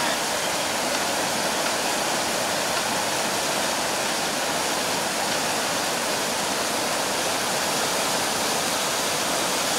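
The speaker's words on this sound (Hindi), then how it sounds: "पहाड़ों के बीच से गिरता हुआ झरना पर्यटकों को अपनी ओर आकर्षित करता है।" The Lakhaniya Dari waterfall near Chunar and Ahraura in Mirzapur drops between hills with a constant, loud, broadband roar of falling water, unbroken throughout and with no voices.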